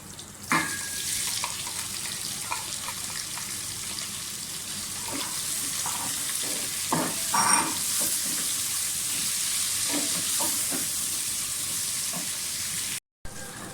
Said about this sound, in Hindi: प्याज फ्राई हो गए अच्छी तरह से